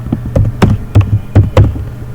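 Computer keyboard keys tapped while entering values in AutoCAD, a run of about eight close, distinct clicks at an uneven rhythm with no talk.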